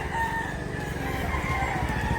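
A rooster crows at a chicken farm, with other fowl clucking close by in a dense, continuous farmyard chorus.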